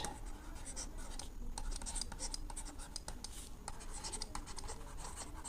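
Marker or chalk scratching across a board as a maths set problem is written out, a continuous busy run of short strokes and taps, close and fairly quiet, no clear talking.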